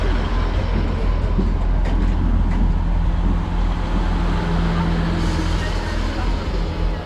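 Class 158 diesel multiple unit, number 158763, arriving at a station platform near Taunton, giving a steady loud rumble and engine drone with a sustained low tone throughout, under faint background voices.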